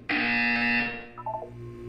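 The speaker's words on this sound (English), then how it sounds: "You will hear a buzzer." A loud electronic buzzer in the video game Portal 2 sounds once for nearly a second, then a few short electronic tones follow at lower volume.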